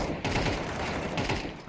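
Counter-Strike 2 match gunfire, a dense run of shots and bursts blending into a steady loud clatter that lasts throughout.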